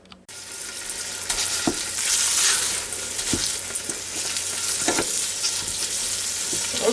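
Ground beef sizzles and crackles steadily in a hot pan on a stove as it is crushed and stirred, with a few sharp scraping knocks of a utensil. The frying sounds close and fairly loud throughout.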